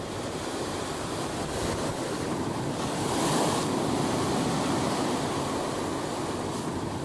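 Waves break continuously against rocks on the Galician coast under strong wind, making a loud, dense roar of surf with gusty wind noise that swells slightly midway.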